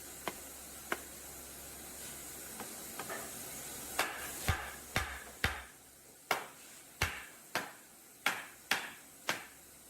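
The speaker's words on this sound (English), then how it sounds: "A few firm taps lock the beam down, tying the entire side structure together." Firm taps seat a pine timber beam's mortise and tenon joints on a pavilion frame. About a dozen sharp wooden knocks come close up, irregular at first, then in a steadier run, over faint background hiss.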